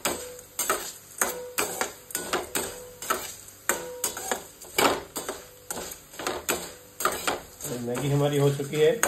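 Maggi noodles frying to golden brown for dry bhel, with a steady run of sharp clinks and ticks from a utensil against the pan and a rising sizzle toward the end.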